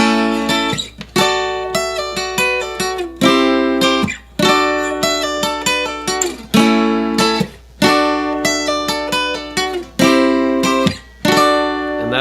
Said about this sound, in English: That's like the little pre-chorus guitar riff that he does.